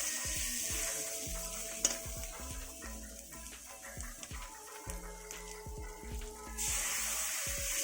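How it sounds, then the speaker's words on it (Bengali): A spice paste for Lote fish curry is stirred in a pan, with repeated scraping strokes over a steady sizzle, close and moderately loud, with no voices. "মশলাটা ভালো করে নেড়ে নিচ্ছি যাতে লেগে না যায়"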